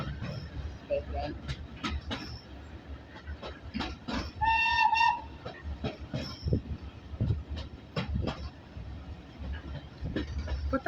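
The steam train Titan runs from Corfe Castle to Swanage, with rhythmic clattering wheels and rumble, plus a short steam whistle blast midway, heard from inside a coach while people talk.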